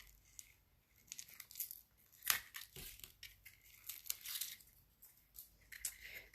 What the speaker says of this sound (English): I think I'll just get the scissors underneath.